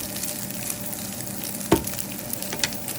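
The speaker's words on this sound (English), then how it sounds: "we're gonna take up our chopped bacon, and we're gonna fry that up for the farofa." Chopped bacon sizzling in a pan for Brazilian farofa, a steady crackling fry with a brief louder clatter partway through, heard close and alone with no talking.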